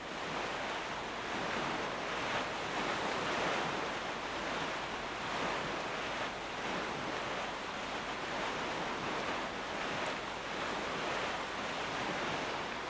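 Ocean waves wash steadily around a sailing boat at sea in the video game Zelda: The Wind Waker HD, a soft, continuous broadband surf and wind rush with gentle swells and no talking.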